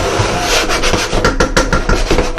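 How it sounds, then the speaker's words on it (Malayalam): A spatula scraping around the sides of a pan of pork vindaloo masala, heard close as repeated rough, raspy strokes in an uneven rhythm with no talking. "ജസ്റ്റ് സൈഡൊക്കെ ഒന്ന് വടിച്ച്"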